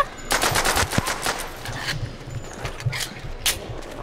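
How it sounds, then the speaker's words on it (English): Automatic machine gun fire in Call of Duty: World at War, loud close bursts of rapid rounds interleaved with scattered single shots and distant gunfire. "Just going for headshots right now."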